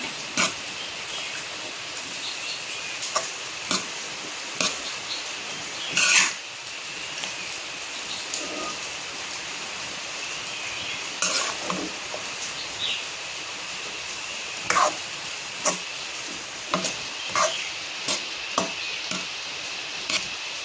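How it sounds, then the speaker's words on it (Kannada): Cooked rice stirred into a carrot mixture in a frying pan, with steady soft sizzling and scraping throughout and repeated sharp taps of the utensil against the pan, close up. "ರೈಸ್ ಸೇರಿಸ್ಬಿಟ್ಟು ಎಲ್ಲವನ್ನು ನೀಟಾಗಿ ಮಿಕ್ಸ್ ಮಾಡಿಕೊಳ್ಬೇಕು."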